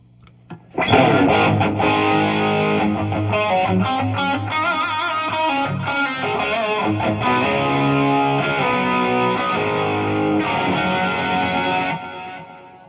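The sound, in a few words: electric guitar with reverb and delay pedals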